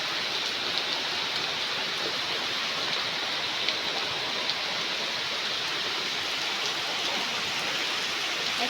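Downpour at night, thick and constant, with rain hammering surfaces nearby and water running, a loud unbroken wash of drops with occasional slightly sharper spatters and no talking.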